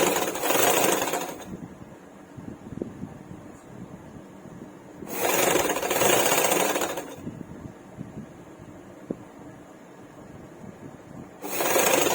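Short bursts of a sewing machine stitching a folded strip on a baby frock, three separate runs of fast whirring separated by quiet pauses with light handling noises.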